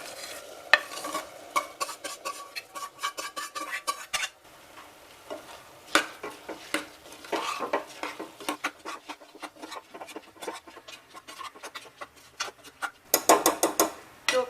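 Soaked rice stirred and frying in hot spiced oil for pulao, with a steady close sizzle broken by repeated scraping, clattering stirs throughout and a burst of louder stirring near the end.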